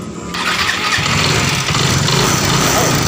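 A Yamaha Mio i 125 scooter with low compression fires up after an initial cough, its engine catching into a loud, steady, close running rumble that continues to the end with no talk.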